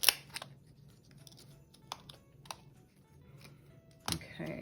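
Scissors snipping foam and paper letters, a few sparse quiet cuts spaced irregularly in a calm room, with a louder rustle near the end.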